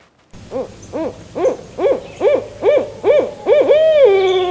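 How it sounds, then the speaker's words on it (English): A loud, clear series of rhythmic hoots from a barred owl by the Pocomoke River, evenly spaced and rising in intensity, ending in a drawn-out descending call. "So that sound is a barred owl."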